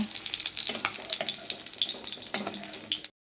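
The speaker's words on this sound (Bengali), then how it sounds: "দেখো আমার মাছগুলো ভালোভাবে ভাজা হয়ে গেছে।" Pieces of rui fish frying in a pan of hot oil, a steady dense sizzle and crackle close up, continuous for about three seconds before stopping abruptly.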